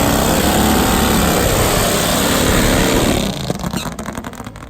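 A top fuel nitro Harley drag racing motorcycle, about 1,000 horsepower, roars loud and sustained through a pass at a drag strip, then the engine note breaks up and fades with crackling pulses.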